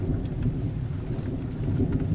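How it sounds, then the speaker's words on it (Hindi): Heavy, steady rain with rumbling thunder fills a dense cartoon forest, a continuous loud downpour with low rolling booms and no voices. "उस जंगल में बहुत तेज़ बारिश हो रही थी।"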